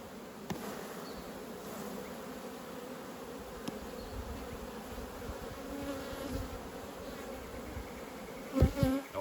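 Honey bees swarm around open hive frames during spring nucleus-hive splitting from a congested colony, a dense steady buzz close by and continuous, with a few handling knocks near the end.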